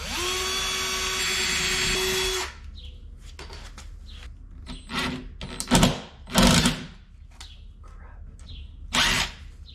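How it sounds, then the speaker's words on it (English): A power drill whines steadily for a couple of seconds pre-drilling screw holes in wood, then stops, followed by scattered knocks, scrapes and handling noises of wood and tools nearby. "That way I can pre-drill them all and screw them all in super quick"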